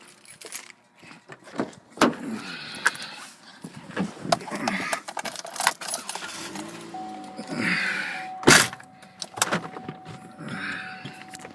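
Someone gets back into a car: keys jangle, doors and movement thump, and the car starts to reverse, with close talk and a faint steady tone in the later part.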